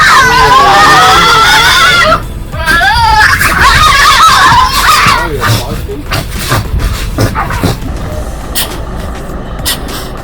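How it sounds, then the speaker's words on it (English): Tasmanian devils at a South Australian safari park letting out harsh, rising-and-falling screeching calls, loud and close, with wavering shrieks in the first five seconds fading into scuffling noise. "the early settlers hearing these screams in the bush and not knowing what it was, so it was obviously the Tasmanian devil"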